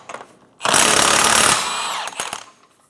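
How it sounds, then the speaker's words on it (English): A power tool driving a 32 mm socket rattles loudly in one sustained burst of about a second and a half, taking off the rear axle nut of a 2012-2016 Subaru Impreza, then fades into lighter clatter. "Using a 32-millimeter socket, we're going to remove the axle nut."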